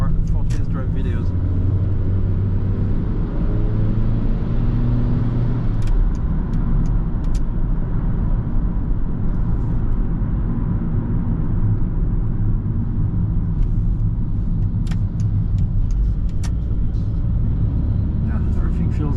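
A 1997 Honda Stepwagon RF1 with automatic transmission drives through downtown city traffic in Japan, giving a steady low engine and road rumble inside the cabin that holds at a constant level with faint clicks and ticks over it.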